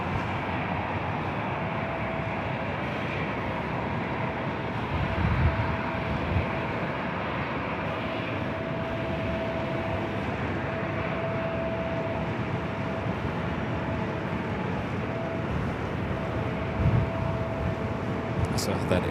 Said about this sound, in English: KLM flight 602, the Dreamliner heading back to Amsterdam, now starting its taxi, heading up here to 24 left